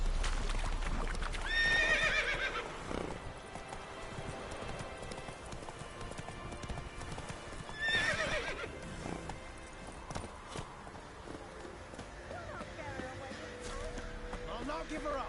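In The Witcher 3, a horse walks with steady clip-clopping hooves and lets out two loud neighs a few seconds apart, beneath quiet game ambience and talking.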